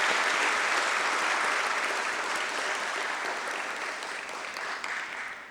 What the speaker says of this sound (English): I would like to ask my audience to please give our esteemed guest a huge round of applause.